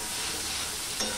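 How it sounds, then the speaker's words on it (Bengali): Masala of chili powder and cumin powder being stirred and fried in a pan for a ladies finger (okra) dish, a steady soft sizzle with faint scraping and one brief louder clink near the end. "দিয়ে মশলাটা কষিয়ে নেব"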